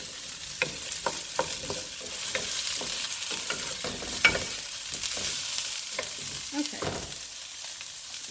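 Potato and carrot sauté in a pot for a one-pot chicken and rice dish, a continuous close sizzle broken by repeated scraping stirs of the spoon, with no talking.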